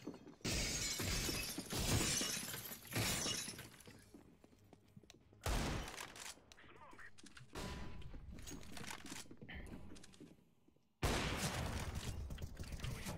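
Glass being shot until it shatters in a video game, with bursts of gunfire and breaking crashes arriving in several loud clusters separated by brief quieter gaps.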